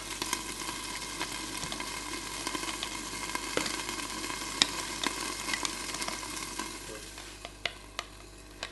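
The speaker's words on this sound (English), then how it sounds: "It's getting popping, getting louder." Pork pot stickers fry in a pan as the water cooks off, a constant close sizzle broken by sharp pops that grow more frequent and louder toward the end.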